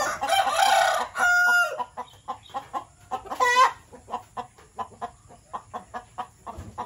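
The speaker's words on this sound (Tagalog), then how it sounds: "Kailangan mapagbago itong manok na to." A rooster crows loudly up close, twice, followed by a run of short, rhythmic clucks from chickens nearby.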